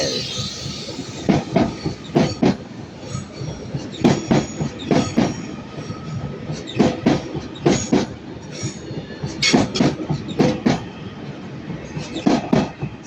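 Train wheels clatter over track joints at Manchester Piccadilly station in repeated clickety-clack bursts, loud and close, with a steady rolling rumble between the clusters.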